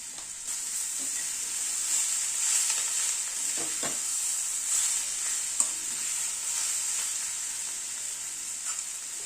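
Potato and capsicum fry in a pan over a medium gas flame, giving a steady close sizzle with soft scraping and stirring sounds throughout and no talking.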